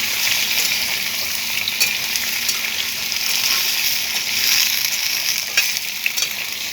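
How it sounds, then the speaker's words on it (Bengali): Crabs frying in a pan as a spatula stirs them, a steady close hiss of sizzling with occasional scraping clicks throughout, no voices. "খুন্তি দিয়ে নাড়িয়ে নিচ্ছি।"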